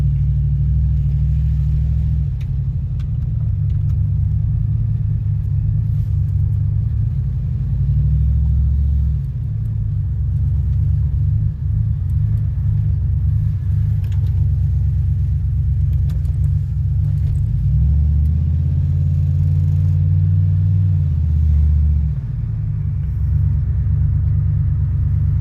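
A 2007 Pontiac G6 GXP engine, just after a cam gear swap, runs with a steady, close, deep rumble that sags and shifts near the end as it starts to stall when put into gear; no talking.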